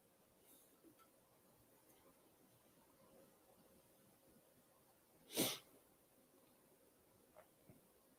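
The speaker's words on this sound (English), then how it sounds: "Just had to sneeze there." A single sharp, close sneeze bursts out against a quiet background, with a few faint ticks and breaths before and after.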